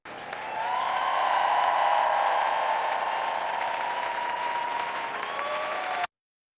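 A dense crowd roars steadily as it pours toward an arena for a concert, a loud, sustained wash of massed voices and cheering that holds for several seconds before cutting off abruptly.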